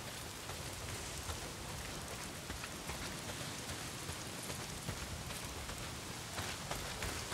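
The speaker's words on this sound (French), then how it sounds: "Pas s'il pleut des cordes, frangin." Heavy rain in the video game Days Gone pours continuously, a dense hiss of drops with no pauses and no voices.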